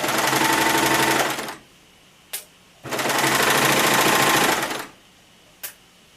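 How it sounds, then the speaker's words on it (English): A sewing machine stitches a French dart about 3/8 inch in, running in two loud, steady bursts of about a second and a half each, with short clicks and quiet gaps between them. "So I'm sewing about 3/8 of an inch."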